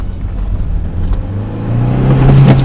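A car engine accelerates, a deep rumbling drone rising steadily in pitch and loudness over a few seconds, heard close with no talk.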